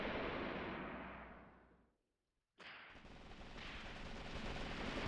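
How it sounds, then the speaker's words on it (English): Sustained submachine-gun fire from a WW2 video game, loud and dense, fading out briefly into near silence before another heavy burst of rapid shots resumes and keeps going to the end. "We can hear their SMGs."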